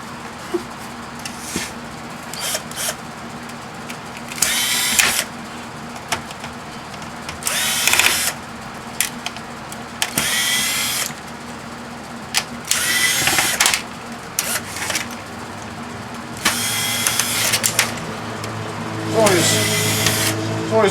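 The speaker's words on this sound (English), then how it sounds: "I guess there's going to be some more screws to take out." A power drill whirs in repeated short bursts, backing screws out of a VCR being scrapped. A voice talks in the gaps between bursts.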